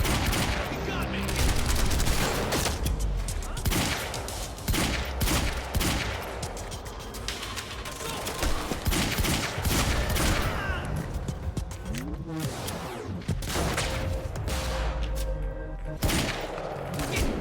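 Heavy gunfire in the video game Quantum Break, with sustained volleys of automatic shots and crackling impacts under a bridge, loud and continuous for the whole stretch, with game voices shouting amid the barrage.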